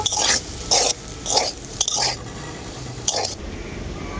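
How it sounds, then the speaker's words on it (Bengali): Boiled potato being stirred and mashed together with ground coriander, cumin, turmeric and dry chili powder, giving a series of soft, wet squishing scrapes in irregular bursts, close by and moderately loud. "মশলার সাথে আলুটাকে আমি আবারও খুব ভালো করে নাড়াচাড়া করে নেব"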